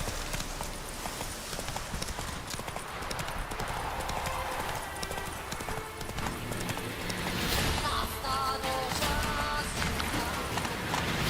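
Roach, a horse in The Witcher 3 game, trots with steady clip-clopping hoofbeats, a brief whinny near the end, over continuous game ambience and music.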